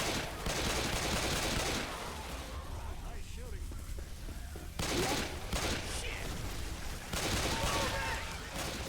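Bursts of gunfire and blasts crackle in Left 4 Dead 2, with loud volleys of shots coming in several waves separated by quieter stretches where a voice talks.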